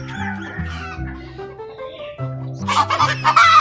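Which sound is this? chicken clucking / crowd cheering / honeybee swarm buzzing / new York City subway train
chicken clucking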